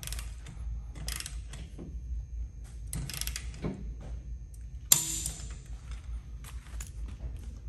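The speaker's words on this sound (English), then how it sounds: "So we'll torque the first one at 50 foot-pounds." A torque wrench ratchets as a bolt is tightened to 50 foot-pounds, giving several separate clicking and ratcheting bursts spread across the clip, with one sharper, louder click near the end, over a low steady background hum.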